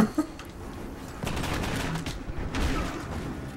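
Bursts of gunfire in the video game Enter The Matrix, rapid shots crackling in two loud volleys after a sharp opening crack, with little talk over them.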